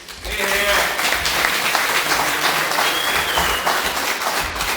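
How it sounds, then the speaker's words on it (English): Volunteers at a King Island Lions Club farmers' night out applaud themselves, a full room of clapping hands rising quickly and holding steady for several seconds, with a few voices and cheers faintly mixed in. "So clap for yourself, because you're all volunteers"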